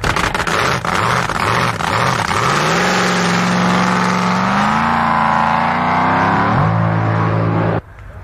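A drag racing boat engine roars loud and close, rising in pitch as it accelerates hard over several seconds before cutting off near the end.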